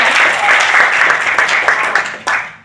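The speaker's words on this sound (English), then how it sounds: "So I think they deserve a clap because they did a great" Conference audience applauding, a steady burst of dense clapping that thins out and tapers off toward the end, with a few final isolated claps.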